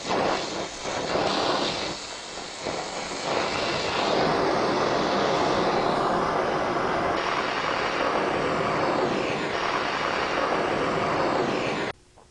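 A welding torch flame roars steadily as it preheats base metal for brazing and welding, a loud continuous broadband rush held close for about twelve seconds before cutting off abruptly at the end.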